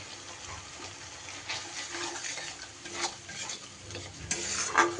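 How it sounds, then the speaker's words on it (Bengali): Spices sautéing in a pan for an aloo potol (potato and pointed gourd) curry, with steady stirring scrapes and a soft sizzle, plus occasional utensil clinks close by and no talking. "এবার আমি এই মশলা খুব ভালো করে কষিয়ে নেব"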